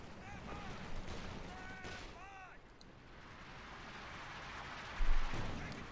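Battlefield gunfire in Company of Heroes 2, a real-time strategy game, rattling in scattered bursts with distant booms, set under a faint voice speaking and a heavier thump near the end.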